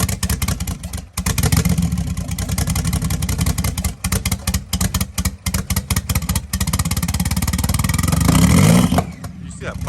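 Flood-damaged Porsche 911 Turbo engine running rough and loud nearby, with steady clattering revs that swell toward the end before cutting off abruptly.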